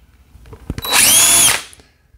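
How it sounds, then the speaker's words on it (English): A power drill bores into a plastic 5 gallon bucket for a DIY water filtration setup, one loud sustained whine of about half a second rising after a few clicks and handling knocks, then cutting off. "And we're simply going to drill."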